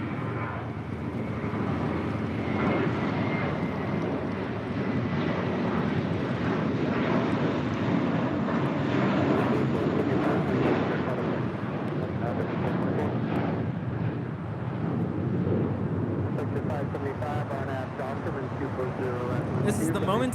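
A seven-year-old JetBlue Airbus A321 departing LAX for JFK makes a continuous broad jet roar with some wind buffeting, steady and fairly close, while people talk over it.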